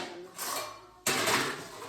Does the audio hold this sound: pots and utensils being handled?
yes